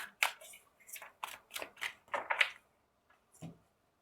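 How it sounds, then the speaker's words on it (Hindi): A deck of tarot cards shuffled by hand, a run of about eight quick papery riffles and slaps in close succession, followed by a pause and one final soft card tap, close and clear. "बस ये शफल करके बाकी के कार्ड्स आपको निकाल के बताती हूँ"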